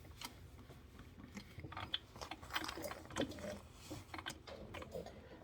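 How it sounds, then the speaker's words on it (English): A sewing machine stitches with an uneven run of quiet mechanical clicks and whirs, close by and without speech. "now that we're back to the sewing machine, we want to start in the stitch we left off in"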